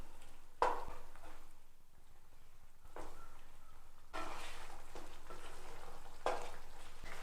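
Chicken sausage curry seasoned with pepper and garam masala is stirred in a pan, with several separate scraping strokes and a soft sizzle between them, quiet and close, without any voice.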